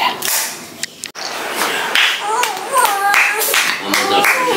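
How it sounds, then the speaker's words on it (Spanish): Hands clap for a baby at home in a few close, sharp bursts amid domestic bustle, with an adult and a voices talking over and between the claps. "que no le toque las palmas"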